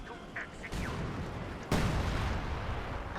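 Artillery firing in the WWII strategy game Company of Heroes 2: two heavy booming shots about a second apart over a dense, continuous battlefield din.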